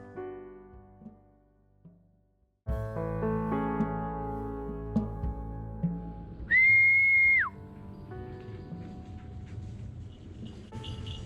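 A falconer's single loud, sustained whistle blast rings out for about a second while following a Harris hawk, standing above music playing in the background.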